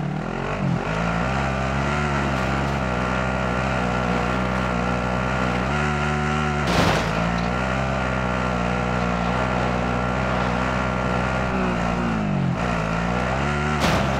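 A vehicle engine drones steadily while driving in the video game Call of Duty: Modern Warfare, loud and continuous, its pitch rising and dipping as it revs and shifts, with no talking.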